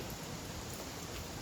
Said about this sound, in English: Don't be fooled by the rain.